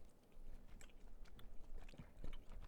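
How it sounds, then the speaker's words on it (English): Gum being chewed close to a microphone, with soft wet clicks and smacks repeating in an irregular rhythm over a quiet background, with no talking. "I'm going to add one more chewing gum in."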